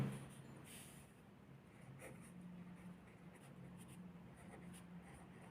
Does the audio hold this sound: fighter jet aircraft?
no